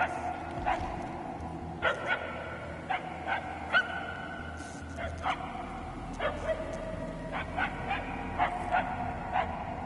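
Repeated short dog barks and yips ring out at a steady, irregular pace from a dog in the Guardians of the Galaxy video game, moderately loud over a low ambient rumble with no voices clearly heard.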